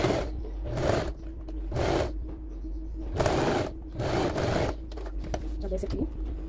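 Close sewing machine stitching red top thread and white bobbin thread through fabric while making a small Mrs. Claus skirt, running in several rapid bursts with short pauses between them over a low steady hum.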